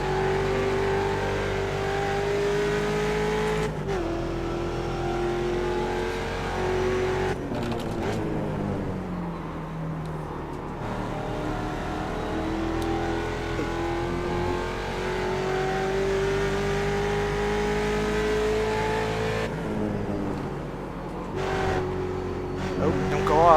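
A Ford Mustang race car in iRacing at Laguna Seca, its engine droning steadily with rising and falling revs through gear changes and corners, loud and continuous under occasional talk.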